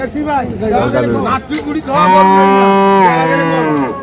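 A dairy cow bellows at a rural cattle market, with a long loud moo close by after shorter calls, over the chatter of buyers and sellers bargaining nearby.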